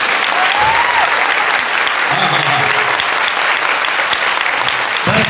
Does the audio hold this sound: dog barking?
no